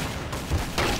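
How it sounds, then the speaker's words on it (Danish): Gunfire in the video game Counter-Strike: Source, a loud burst of shots over a constant dense noisy background, lasting about a second. "Det er bare 5 skud, ja"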